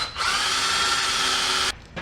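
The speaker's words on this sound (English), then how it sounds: "Now with a small drill bit, I can drill all the way through." A power drill with a small bit bores through wood for a homemade cupcake tree stand, a loud steady whine held for nearly two seconds and then cut off sharply, close up with no voices.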